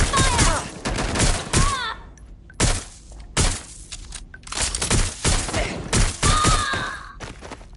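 Bursts of gunfire in the action game Watch Dogs Legion, loud sharp volleys broken by short pauses, with thuds and impacts between them and brief voices in the mix.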